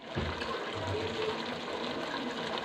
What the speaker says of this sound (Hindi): अब हमने इसमें 1 गिलास पानी डाला है।